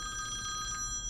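A telephone rings in a county meeting room in Atascosa County, a steady electronic ringing tone held at low level through the whole moment over faint room noise, with no talk.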